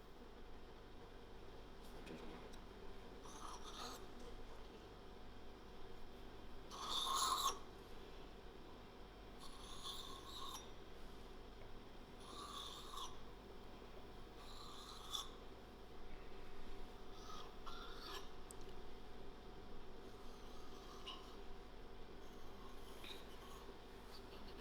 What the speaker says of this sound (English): Here's my first piece of dough that's rolled out, and now I'm going to cut it into diamond shapes.